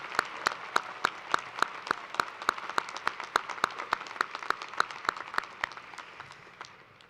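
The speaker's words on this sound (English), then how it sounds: "Let's give a round of applause for everyone who helped make this celebration" University commencement ceremony applause, a large audience clapping steadily with distinct claps standing out in a regular rhythm, sustained then gradually thinning toward the end.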